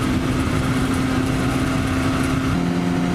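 A Kawasaki Ninja 400 motorcycle fitted with a new exhaust, producing a steady, loud engine drone with a continuous low hum while riding, with no speech.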